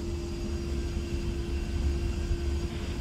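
A-10C jet taxiing in the DCS flight simulator, a steady low engine rumble with a constant whining tone holding level throughout, fairly quiet and with no voices over it.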